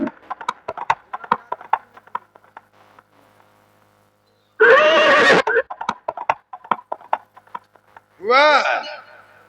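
A horse trots with rhythmic clip-clopping hooves in a folk nautanki stage performance. Partway through it gives a loud, long neigh, the hoofbeats carry on, and a second rising and falling whinny follows near the end.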